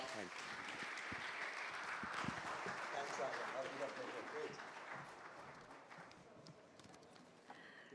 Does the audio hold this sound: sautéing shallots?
no